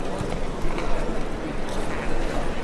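Horse hooves clip-clop in a steady galloping rhythm in The Witcher 3: Wild Hunt, running close and fairly loud over a continuous broadband rumble, with talking heard at the same time.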